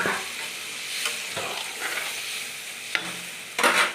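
A Bengali rohu fish curry with potato and aubergine, stirred in the pan just after water goes in, with soft sizzling and several scraping strokes of a spoon, close and alone.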